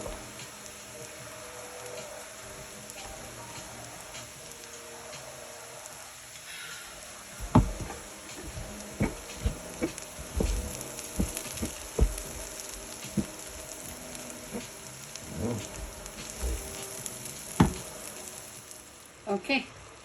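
Red lentils cooking in tomato sauce sizzle steadily in a pot, with scattered scraping and clinking of a spoon as they are stirred, the clatter growing busier in the second half.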